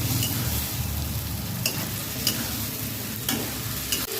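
Spice paste sizzles in a hot pan with fried pointed gourd and potato while a utensil stirs and scrapes it, with a few sharp clinks against the metal.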